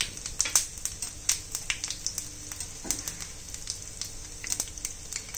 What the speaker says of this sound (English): Now my oil is heated. I have put cumin seeds,